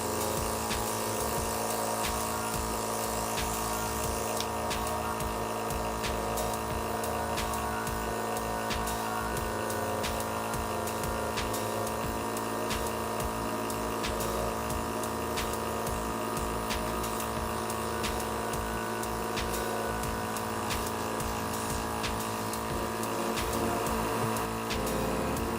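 Temptu airbrush makeup machine running, a steady, continuous mechanical whir and hum with a faint rhythmic ticking, close and unbroken throughout.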